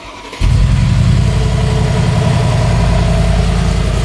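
A Mercedes G63 AMG fires up with a sharp start and settles straight into a loud, deep, steady idle rumble that holds throughout.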